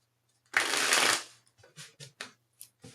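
Tarot cards riffle-shuffled close up in one loud, dense burst lasting about half a second, followed by several soft separate taps and slaps as cards are set down.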